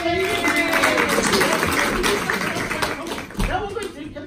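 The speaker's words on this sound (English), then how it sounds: "Another round of applause for this lovely lady." A variety show audience at a music hall claps and cheers for a woman joining the stage, a dense, steady wash of applause with a brief swell near the end, mixed with crowd noise.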